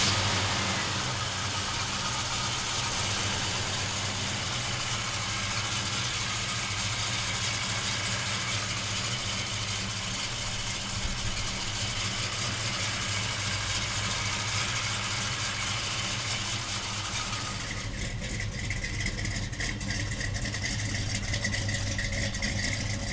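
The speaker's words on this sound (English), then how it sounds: "We're gonna fire this 502 Ramjet up for you right now." Chevelle with a 502 Ramjet V8 idling at a steady, moderately loud lope, a continuous low rumble that shifts tone slightly near the end, with no talk over it.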